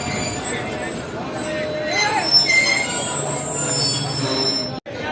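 A train pulls into Hyderabad junction with prolonged metallic wheel squeal and rolling rumble, heard from on board, loud and continuous as it slows, with voices in the background.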